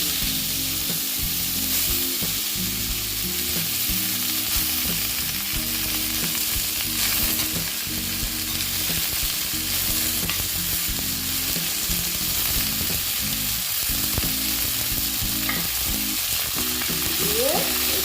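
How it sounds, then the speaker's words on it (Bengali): Chopped ash gourd fries in hot oil tempered with spices, a steady, loud sizzle filling the whole stretch with faint clicks of stirring and no voices. "আমি একটু ভেজে নিচ্ছি"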